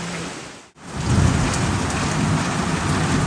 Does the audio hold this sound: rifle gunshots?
no